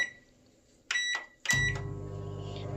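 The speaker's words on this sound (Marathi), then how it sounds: "मायक्रोवनार घालून गरम करचें. एक मिनीट." A kitchen microwave oven gives two short beeps, then its heating hum starts and drones on steadily, close and fairly quiet.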